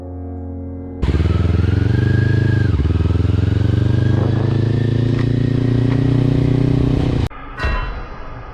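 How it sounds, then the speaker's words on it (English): A motorcycle with a loud aftermarket exhaust and no silencer roars steadily and close for several seconds with a rising rev, then cuts off abruptly into a brief clattering scrape. "This biker got pulled over because of the loudness of his bike."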